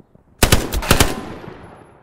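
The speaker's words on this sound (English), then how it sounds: "SMGs like the Thompson and MP40 aren't as accurate or lethal at range, so they'll need to be used in short bursts" A Thompson or MP40 submachine gun fires in the Hell Let Loose video game: a loud, close burst of rapid shots that starts abruptly, then rings out with a fading echoing tail.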